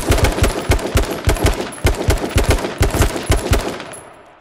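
Automatic gunfire in H1Z1 hammers out in a long, loud, rapid stream of evenly spaced shots with a brief break midway, then fades into a trailing echo.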